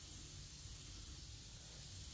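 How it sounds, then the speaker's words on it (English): A steady, continuous hiss of a spray gun spraying metallic paint at 29 PSI onto plastic panels, even and unbroken throughout. "I'm spraying it"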